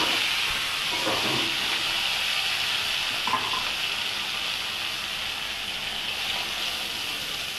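Cashews frying in a pan for a mixed vegetable dish with carrot, potato, cauliflower, capsicum and paneer, a steady close sizzle and hiss with a few soft stirring scrapes early on, no talking.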